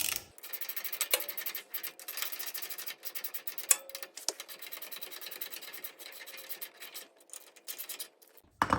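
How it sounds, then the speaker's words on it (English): A wrench tightens a Dr. KDSS front sway bar end adapter on a 4Runner or Land Cruiser, making close, irregular scraping and ratcheting clicks in quick bursts. There is no talking. "And then just wrench it on."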